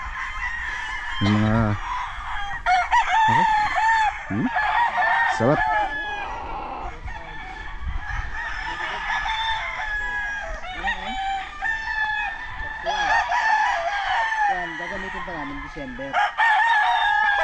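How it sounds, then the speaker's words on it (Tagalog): Several roosters crow repeatedly, some near and some farther off, with hens clucking; someone speaks briefly near the start. "yung mga tilaok ng mga manok"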